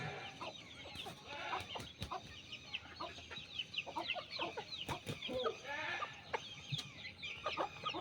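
A yellow rooster from a home-bred poultry line clucks repeatedly among other chickens in a farmyard, its short calls rising and falling over a steady busy background.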